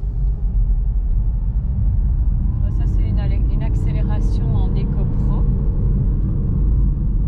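A BMW 118d diesel accelerates in sport mode, its engine a loud, steady low rumble from inside the cabin that rises in pitch as the revs climb, with brief talk over it.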